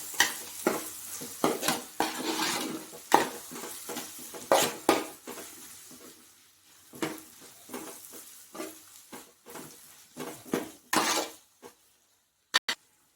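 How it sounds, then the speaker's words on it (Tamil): Tomatoes sautéing with ginger garlic in a pan for a chana dal dumpling curry, with repeated spoon scrapes and clattering stirs over a soft sizzle, ending in a couple of sharp utensil knocks. "தக்காளி சேர்த்து தக்காளிக்கு ஒரு நல்லா வதங்கட்டும்"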